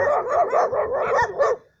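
Boxer dogs giving a quick run of about six close, loud barks in steady rhythm, then falling silent.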